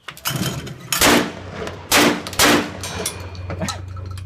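A Molot Vepr 12 shotgun fires at a shooting range, with three loud, close blasts about half a second to a second apart, each with a short decaying boom, over low background noise.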